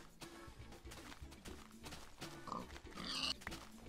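Pigs in the video game Minecraft grunt and oink a few times, fairly faint, over soft game sounds and footsteps, with no speech.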